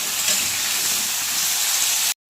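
Potatoes fry in mustard oil with salt and turmeric in a pan, giving a steady, loud hiss and sizzle that runs unbroken before cutting off abruptly.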